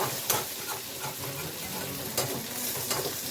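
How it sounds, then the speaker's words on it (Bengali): Half-boiled potatoes frying in a pan with a steady sizzle and occasional stirring scrapes, close and continuous with no speech. "হালকা একটু আলুটা ফ্রাই হয়ে গেলে"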